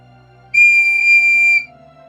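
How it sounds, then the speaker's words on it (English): A whistle tapped in the video game Fairy Whale gives one steady, clear tone lasting about a second over soft background game music. "Tap the whistle when you hear his mom calling him."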